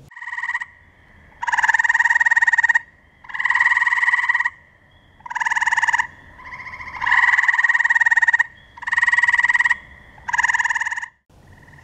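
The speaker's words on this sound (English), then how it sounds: "we've got Hyla Versacolor, the gray tree frog, screaming and calling all over" Gray tree frogs give loud, trilling calls in repeated bursts of about a second, separated by short pauses, close and clear.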